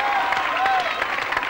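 Studio audience applauding a musician as he is welcomed onto a French television show, a short burst of steady clapping with a held musical tone over it.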